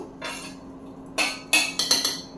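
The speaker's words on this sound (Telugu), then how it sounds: "ఇవన్నీ కూడా నేను మిక్సీ జార్లో వేస్తున్నాను" Fried ingredients, green chillies and curry leaves among them, tipped into a metal mixie jar for a tomato-coriander chutney, giving a few sharp clinks and clattering taps in quick bursts, close and alone.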